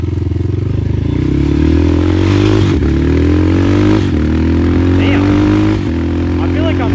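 A Kayo TT140 dirt bike fitted with a 15-tooth drive sprocket revs and rides close up, its engine droning loudly with rising pitch through the gears, while the rider talks over it.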